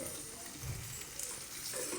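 Warm water is poured into a pan of sizzling chicken curry, a soft splashing hiss over steady frying crackle, close and fairly quiet.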